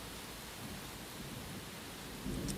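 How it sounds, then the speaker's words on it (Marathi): Monsoon rain falling steadily in the morning after a night of downpour, a faint, even hiss of rainfall with a slight low rumble, continuous and soft throughout. "सध्या सुद्धा पाऊस चालूच आहे"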